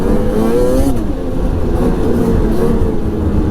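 A 2006 Ski-doo Renegade 600 SDI snowmobile engine held near full throttle, a loud, close, steady high-revving two-stroke drone with slight pitch wavers and no talking.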